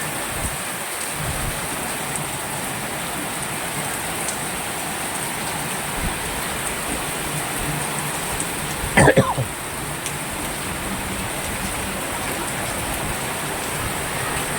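Heavy monsoon rain pours steadily onto a road in Chikhali, Pune, as a dense, even hiss throughout, with one brief sharp clatter midway.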